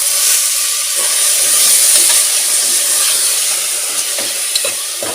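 Ground spice paste goes into a hot pan for pea biryani, setting off a loud, steady, close sizzle with faint stirring scrapes throughout and no one talking.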